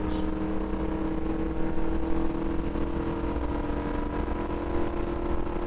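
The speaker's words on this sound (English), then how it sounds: "Hit the rev limiter." Sustained NASCAR stock car engine roar on the backstretch at Texas Motor Speedway, heard from inside the car as a steady, loud, droning tone held at high revs near the rev limiter.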